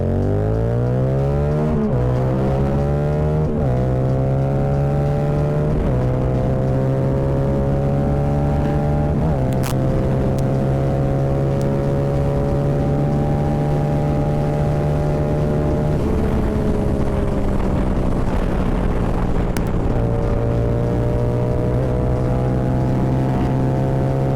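Tuned Yamaha R7 motorcycle with an ECU tune, engine revving and stepping down through gears in repeated rising and falling sweeps, loud and close, with sharp exhaust pops and cracks on deceleration.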